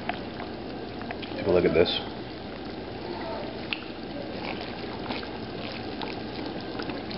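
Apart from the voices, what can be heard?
sauce boiling down to reduce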